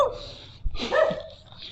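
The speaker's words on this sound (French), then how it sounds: "le chien." A dog indoors gives a couple of yelping barks close by, followed by a whimpering, whiny bark. The calls are moderately loud.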